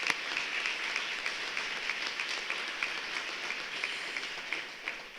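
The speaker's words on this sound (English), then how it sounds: "one more big round of applause" Sustained round of audience applause at the 2019 Governor's Awards of Excellence ceremony, many hands clapping steadily throughout, moderately loud and even with no talk over it.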